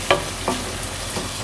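Tomatoes fry for garlic bhindi in a pan with a soft steady sizzle, broken by two or three brief spoon scrapes close by.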